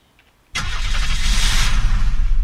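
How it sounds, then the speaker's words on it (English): A car engine in the video game Unturned starts abruptly after a quiet moment, then runs loud and close with a rough, rising hum that carries steadily to the end. "I'm gonna take the car and go up there."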